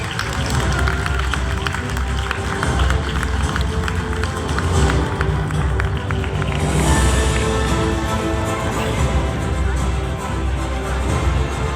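Audience at a dance award ceremony applauding steadily as awards go to dance school directors, a dense, continuous wash of clapping filling the hall at even loudness throughout, with crowd murmur mixed in.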